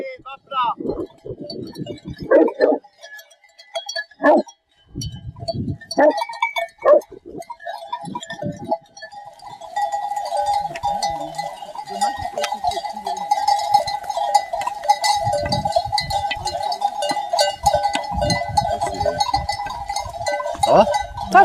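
A flock of sheep in the mountains, some wearing bells, with scattered bleats and a dense, continuous jangle of bells building up and persisting; people talk intermittently early on.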